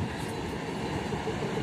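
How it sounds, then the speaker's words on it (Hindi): Local passenger train running between Godda and Bhagalpur at a railway station, a steady broad rumble and rolling clatter that holds throughout without a break. "गोड्डा टू भागलपुर जाती है ये ट्रेन, आप देखिए लोकल ट्रेन है"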